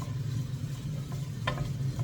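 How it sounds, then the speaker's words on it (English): Onions and carrots frying in olive oil in a steel saucepan, a steady close sizzle with a low hum and a few light clicks of stirring, no voices. "Sizzling away. So I've got my olive oil, my onions, carrots,"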